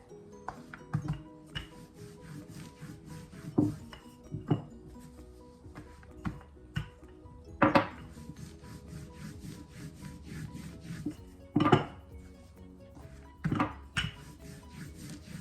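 A rolling pin working roti dough thin on a wooden board, repeated soft rubbing and knocking strokes with occasional louder clacks, close and fairly quiet.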